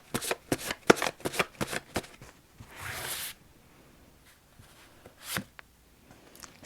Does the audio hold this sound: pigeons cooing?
no